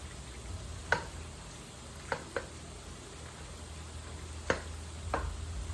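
A spoon mixes a hot sauce mixture spiked with Texas Pete for a New Orleans-style shrimp po boy, giving a handful of sparse, faint clicks and taps against the bowl over quiet background noise.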